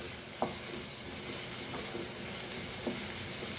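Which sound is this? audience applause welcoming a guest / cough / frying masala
frying masala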